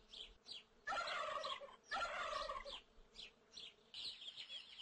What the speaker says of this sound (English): This is a turkey.